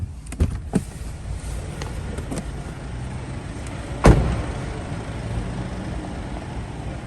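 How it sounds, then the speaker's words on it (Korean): A car's power trunk (tailgate) operates with a low, steady motor hum, and a solid thud near the middle as it closes or latches. "파워 트렁크도 네 파워 트렁크 작동 잘 됩니다"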